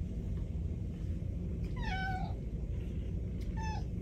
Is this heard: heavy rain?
no